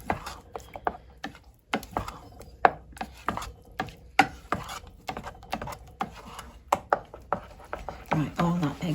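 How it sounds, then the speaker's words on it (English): Whole nutmeg rubbed against a grater over a baked moussaka, a close series of short, dry rasping strokes in an uneven rhythm, fairly loud and steady throughout. "Finish it off with a nice grating of nutmeg."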